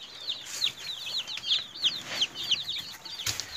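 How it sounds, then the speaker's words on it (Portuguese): Newly arrived free-range chicks chirp in a busy run of high, rapid peeps, fairly close, with faint background noise. "chegaram os pintinhos."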